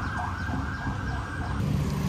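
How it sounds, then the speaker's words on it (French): Ambulance siren on a street in Thailand, a loud, steady wailing tone close by over traffic rumble, with no talking. "les ambulances ici, ça fait mal aux oreilles"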